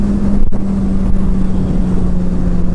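A Kawasaki 636 motorcycle accelerates on a throttle roll-on, its engine a loud, continuous droning hum that holds steady against heavy wind rush from up close while riding.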